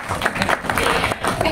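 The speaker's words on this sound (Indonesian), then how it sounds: "tepuk tangan dulu" A crowd at a film press conference claps in quick uneven bursts, loud and close, with some voices mixed in among the applause.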